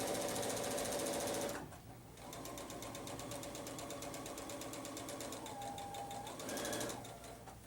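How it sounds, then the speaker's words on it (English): Sewing machine stitching curves at a short 2.0 stitch length, a steady rapid mechanical whir and needle rattle running loud and close, pausing briefly twice before resuming. "You can just naturally sew your curve a lot tighter with that closer stitch length."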